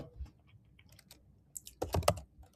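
Typing on a computer keyboard while writing Google Apps Script code, with scattered soft key taps followed by a denser, louder burst of clicks near the end, no talking.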